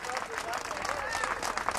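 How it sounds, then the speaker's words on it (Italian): Crowd at Brissago applauding the winner of a women's cycling race, a moderate wash of clapping and cheering outdoors with a voice talking over it. "Riceve l'applauso di Brissago e degli appassionati di ciclismo femminile"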